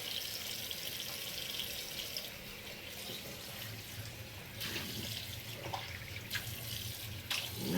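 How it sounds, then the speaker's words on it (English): Hot water runs from a bathroom tap into a sink during a morning shave, a steady, close hiss and splash with occasional louder gushes as hands move under the stream. "I always soak my face up with hot water"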